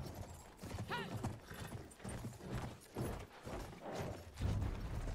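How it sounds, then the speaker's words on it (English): Horse hooves clip-clop in a loose, uneven rhythm in the World War I shooter Battlefield 1, moderately close, mixed with creaks and rattles of tack and some quiet background game noise. "I'm gonna park my horse right here."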